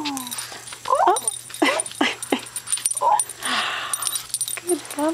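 A puppy whimpers and yips in a series of short, high whines during a playdate with another dog, close to the microphone, with a low steady hum underneath and people talking softly at times.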